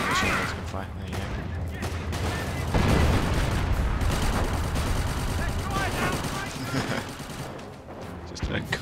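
Machine gun fire rattles continuously through a World War I battle in the Company of Heroes mod, dense and loud bursts mixed with distant booms, going on steadily with a voice talking over it.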